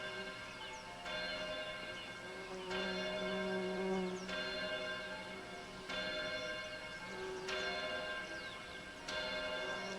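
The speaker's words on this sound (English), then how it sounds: "Church bells." Church bells toll within a song, struck repeatedly at a slow, even pace roughly every one and a half seconds, ringing and overlapping with sustained tones in a moderately quiet recording.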